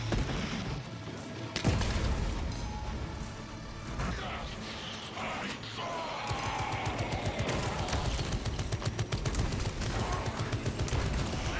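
Rapid bursts of gunfire from a servo gun in the Warhammer 40K Deathwatch video game, a dense barrage with booms and crashes running continuously and loudly through the whole stretch.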